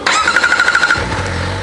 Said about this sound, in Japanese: エンジンをかけてみましょうか。